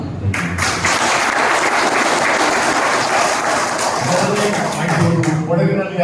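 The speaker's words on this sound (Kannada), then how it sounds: "ಅದು ಚಪ್ಪಾಳೆ" Crowd applause at a felicitation ceremony for newly appointed auxiliary bishops held by Kannada organisations, a dense sustained clapping from a large audience that fades slightly near the end.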